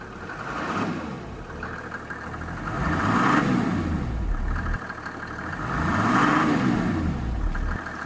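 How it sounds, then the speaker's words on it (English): The big diesel engine of a Mercedes S350 W140 rumbles close by and revs up twice in slow, rising and falling swells between idle passages, with no talk over it. "there is something very calming when it comes to the way that the big diesel engines work"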